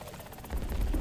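Helicopter engine in the War Thunder video game, a steady rotor and turbine drone that swells louder in the second half, close and continuous with no talk.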